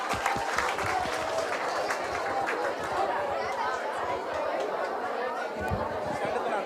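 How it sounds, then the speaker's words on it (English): A school audience applauds steadily with chatter mixed in, a dense wash of hand claps and crowd voices filling the whole stretch at moderate loudness. "it deserves an applause"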